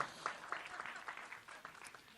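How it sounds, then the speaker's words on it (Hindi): Audience applause for actress Shilpa Shetty at the 'Aa Gaya Hero' trailer launch, a brief, moderately loud burst of many hands clapping from a crowd. "शिल्पा जी के लिए जोरदार तालियां हो जाएं।"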